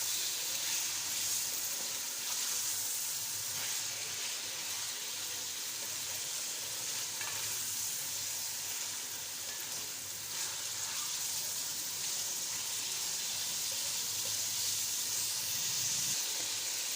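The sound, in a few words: ingredients browning in a hot pan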